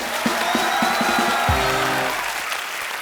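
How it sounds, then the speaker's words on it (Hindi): A TV studio audience applauds a guest being seated on a talk show set, with continuous loud clapping over low tonal background sound. "जोरदार तालियां होनी चाहिए यार।"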